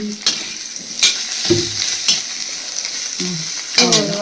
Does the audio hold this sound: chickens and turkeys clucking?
no